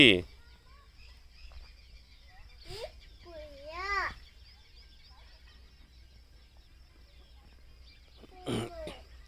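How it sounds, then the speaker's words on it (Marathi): A few scattered clucks and short calls from a fowl in a cattle shed, faint and sparse against a quiet background, with people talking nearby. "एक पक्षी"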